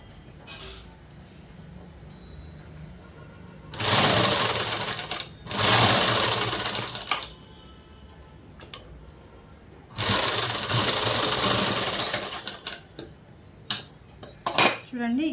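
A sewing machine stitches a collar neck dress in two long loud runs with a few shorter bursts between, the motor whirring steadily and stopping in clear pauses.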